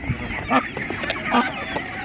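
Ducks call at an outdoor animal market, a few loud honking quacks in short bursts over a busy background.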